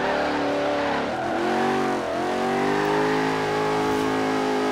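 A Porsche 928 GTS in Forza Horizon 3 drifts with a steady engine drone and shifting revs, tires squealing along continuously and loudly, with no voices.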